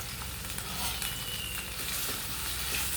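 Onions and curry leaves frying in hot oil in a pan for a tomato gravy, a soft, steady sizzle and crackle close by with no voices.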